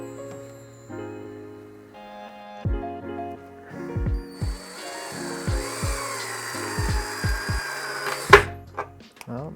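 An install tool drives a threaded deck insert into very hard wood, giving short strained whirring bursts that stop and start over several seconds before a sharp final crack.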